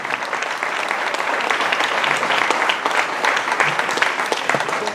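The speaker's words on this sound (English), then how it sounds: "deserves that big round of applause" A room full of people gives veterans a big round of applause at a May 2017 gathering: dense, steady clapping that holds an even loudness for the full five seconds, with no one speaking over it.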